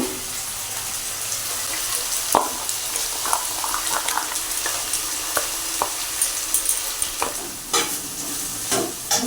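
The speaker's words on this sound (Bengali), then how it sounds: "কাঁচা লঙ্কাগুলো দিয়ে দেবো" Slit green chillies fry in a pan, a steady close sizzle and crackle broken by sharp spatters and the scrape of stirring.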